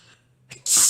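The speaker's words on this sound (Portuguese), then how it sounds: "eu quis desligar a câmera para espirrar, mas não deu tempo. O espirro saiu antes" A single sharp human sneeze: a brief intake of breath followed by a loud, hissy burst that ends abruptly, with no talking.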